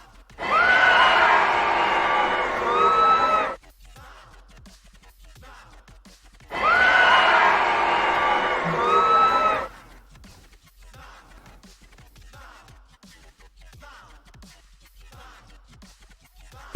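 Audience cheering and applauding after a spoken performance, two loud bursts of roughly three seconds each separated by quieter pauses, with whoops rising above the clapping.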